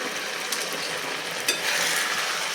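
Fried paneer cubes being stirred into a chilli paneer sauce in a pan, giving a steady close sizzle with soft scraping strokes and a couple of brief louder clacks, no talking.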